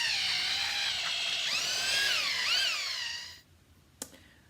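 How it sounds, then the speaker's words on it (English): An electric drill with a paddle mixer stirring tile mortar, a steady high whine that rises and falls in pitch for about three seconds, then stops, followed by one sharp knock. "you use your drill and your paddle mixer to stir"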